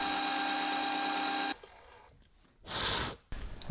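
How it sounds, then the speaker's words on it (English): Metal lathe drilling and boring a workpiece to accept an arbor, a steady machining whine for the first second and a half, then quieter tool contact and a brief louder cutting burst near the end. "Now I'm drilling and boring to accept the arbor that we made earlier."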